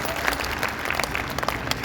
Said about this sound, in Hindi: तालियां बजाते हुए हाथ नीचे करते।